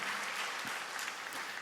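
A church congregation claps together during a Friday prayer service, a dense, even burst of applause held briefly at moderate distance.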